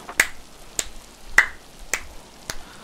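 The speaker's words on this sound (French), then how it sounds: "C'est beau, j'applaudis en cas où." Hands clap sharply five times at roughly even half-second intervals, crisp and close, with quiet in between, while someone plays the game Miasmata.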